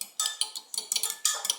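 Eggs are beaten in a bowl for scrambling, a fork or whisk clicking rapidly against the sides in quick, uneven strokes, close and crisp with no talking.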